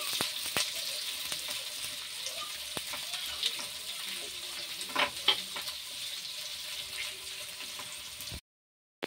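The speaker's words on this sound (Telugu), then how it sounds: "ఆనియన్స్ లైట్గా కొంచెం ఫ్రై అవ్వాలి." Onions frying lightly with cumin in a pan, a steady soft sizzle with occasional stirring clicks and scrapes, close and continuous.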